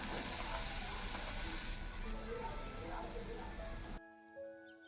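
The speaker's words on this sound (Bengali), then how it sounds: "এবারেই গুঁড়ো করে নেওয়া পাউরুটিটা দিয়ে দিচ্ছি ঘিয়ের মধ্যে" Crumbled bread frying in hot ghee with cracked cardamom pods, a steady, bright sizzle that fills the pan for about four seconds, then cuts off abruptly into near silence.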